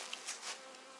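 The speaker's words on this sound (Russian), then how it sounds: "Пчелы летают хорошо, носят обножку." Honey bees flying around a beehive in spring make a steady, close buzzing hum with slight swells as individual bees pass, no voices present.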